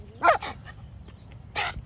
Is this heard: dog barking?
yes